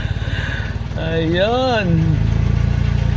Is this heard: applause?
no